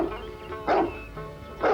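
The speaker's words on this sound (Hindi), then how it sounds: "इतना भौंक रहा है?" A dog barks twice, loud and close, the two woofs spaced about a second apart with a low hum of background sound between them.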